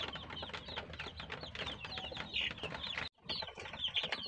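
Several layer hens cluck and chatter together close by on a farm, a busy continuous stream of calls with one brief pause near the end, and no voices.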